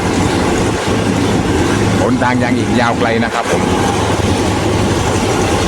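A local passenger train, number 447 from Surat Thani to Sungai Kolok, rolls along steadily with a rumbling, rhythmic clatter from the tracks, while someone speaks briefly in Thai over the noise.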